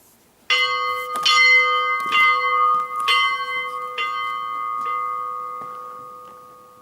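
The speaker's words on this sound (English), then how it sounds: "There we go, the bell." A large bell is struck about five times at roughly one-second intervals, each clang loud and near with a long ringing tone that lingers and slowly fades after the last strike.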